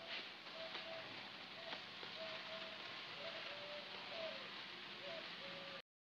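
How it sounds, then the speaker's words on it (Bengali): Rain begins falling outside a home, a faint, even patter and hiss heard from a distance, with a few soft tonal sounds in the background before it cuts off abruptly. "ও বলতে বলতে বৃষ্টি নেমেও গেছে"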